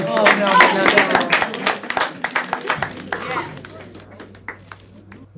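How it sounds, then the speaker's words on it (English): An audience claps in a burst of applause that starts dense and thins into scattered individual claps over a few seconds, with a voice talking near the start. "the fact that they applaud for this"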